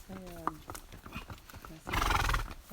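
A horse on a beach gives a short whinny over softly clip-clopping hooves, then a louder, broad rushing noise swells near the end. The sounds are close and moderately loud.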